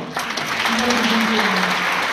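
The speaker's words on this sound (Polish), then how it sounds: "Wielkie brawa dla starostwa naszego." A burst of steady clapping from a crowd at a ceremony in Grójec, Poland, fills the moment, dense and fairly loud, with a voice faintly audible beneath it.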